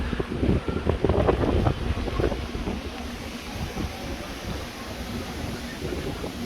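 Strong wind buffets the microphone in steady low rumbling gusts, heaviest in the first couple of seconds, then a constant roar, high up on a repurposed offshore oil rig structure.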